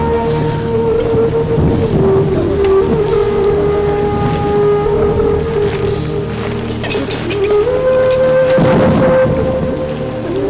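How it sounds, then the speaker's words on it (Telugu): Heavy rain pours down on a house, a dense continuous roar lasting about ten seconds, close and loud, with a low rumble beneath and no one talking. "ఇప్పుడు అర్ధంతరగా ఈ వర్షం పట్టుకుంది"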